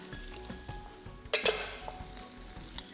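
A soft sizzle rises in a frying pan as red beans go in for a vegetarian lubia biryani garnish, with a brief burst of crackling and a few light clinks of utensils against the pan.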